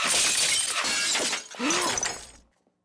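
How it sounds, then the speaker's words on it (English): Golf ball crashing through a china shop window in a cartoon, a loud burst of shattering glass and tinkling shards lasting about two seconds before fading to silence. "crashes through the window of a nearby china shop"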